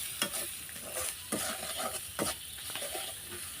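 Spices with ginger and garlic stirred and fried in a pan, close scraping strokes of a spoon over a soft bubbling sizzle, several distinct scrapes spread across the few seconds.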